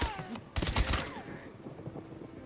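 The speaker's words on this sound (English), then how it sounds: "I'm pretty sure this gun has a built-in silencer, and I love that." A suppressed gun fires in the game Days Gone: a short cluster of muffled, thudding shots in quick succession amid background game noise and a speaking voice.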